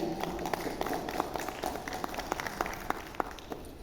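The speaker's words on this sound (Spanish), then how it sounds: "Fuertes aplausos para él" Audience applause in an auditorium at a novel presentation, a fairly faint, steady patter of many hands clapping at once, heard from a distance.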